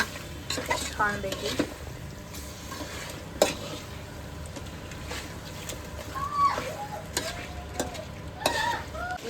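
A spoon stirs biryani masala gravy in a pan over a high gas flame, scraping and clinking softly beneath a steady sizzle while a person speaks briefly.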